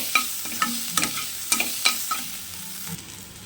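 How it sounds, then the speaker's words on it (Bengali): Chopped ginger and garlic frying in a pan for ghugni, with a spoon scraping and tapping in irregular stirs over a quiet background sizzle, close and clear. "এবার দেব আদা কুচি, তারপর দেব রসুন কুচি, দিয়ে নাড়তে থাকি 1-2 মিনিট"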